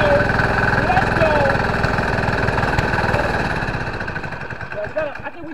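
A go-kart engine running on diesel made from plastic idles roughly and loudly nearby with a chugging pulse, then fades and dies away toward the end while people talk over it.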